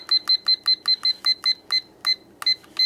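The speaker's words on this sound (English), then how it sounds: "I'm going to set my timer" A kitchen timer beeping loudly, a rapid series of about a dozen sharp electronic beeps at a steady rhythm, with nothing else.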